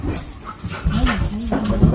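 Two dogs whimpering and yipping up close in a home, with soft high whines and short barks, while people talk and laugh over them.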